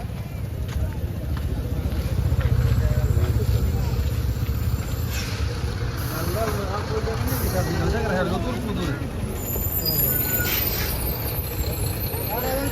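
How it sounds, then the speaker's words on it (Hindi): A heavy Volvo hauler truck rumbles at a steady, loud idle, its deep low engine drone continuous throughout, with a crowd chattering around it. "ये मशीन बोले तो ट्रक है, इतना हेवी इंजन वाला।"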